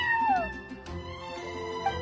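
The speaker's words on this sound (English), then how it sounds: "I'm sorry, that's my neighbor's cat." A neighbor's cat named Charcoal meows from a windowsill, one clear drawn-out call with a falling pitch followed by a brief, quieter chirp, heard against a faint musical background.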